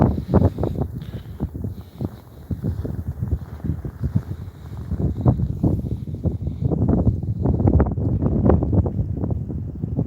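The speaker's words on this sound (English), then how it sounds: "It's pretty windy" Gusty wind buffets the microphone in a steady low roar, rising and falling in strength, with faint background rustling, during a snowstorm in Toronto.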